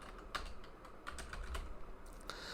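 Typing on a computer keyboard, with soft, close keystrokes in a brief irregular burst and a low background hum.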